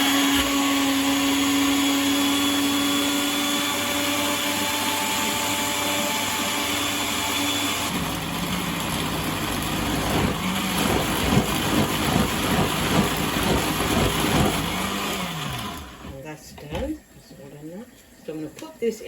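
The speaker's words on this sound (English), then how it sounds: "I'm just going to blend that now." An electric kitchen blender whirs loudly and steadily as it purees green chutney with a little water, the motor pitch shifting as the contents churn, then cutting off near the end.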